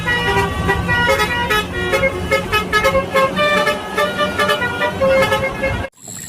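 White toy bus playing a loud electronic horn and vehicle sound effect, repeated honks over a melodic tone, steady for about six seconds, then cutting off.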